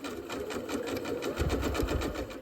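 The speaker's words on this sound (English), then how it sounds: "We still want to bring our thread down in behind, and then we're just going to stitch." A Janome F2 sewing machine stitches appliqué in a quick, even run of needle strokes, close and steady with no talk.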